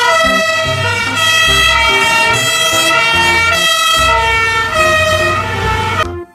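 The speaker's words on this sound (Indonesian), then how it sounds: "Yang ini ternyata mobil pemadam kebakaran." Toy fire truck siren, a loud electronic melody of bright harmonic tones over a repeating beat-like pulse, steady for about six seconds then cutting off abruptly, no talk.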